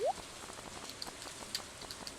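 Rain in the farming video game Stardew Valley patters softly and steadily, with a few brighter droplet ticks scattered over a quiet hiss.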